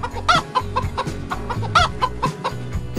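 A hen clucks repeatedly in short, rhythmic bursts, close and clear, over a low background hum.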